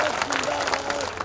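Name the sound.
crowd applause at political rally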